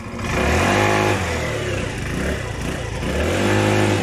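Rossi RS 2020 motorcycle engine firing up on the electric starter, then revving and settling into a loud, close, throbbing idle with repeated surges in pitch.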